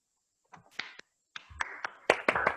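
Scattered hand claps from unmuted participants of an online seminar as a presentation ends, uneven bursts arriving in staggered waves rather than unified applause.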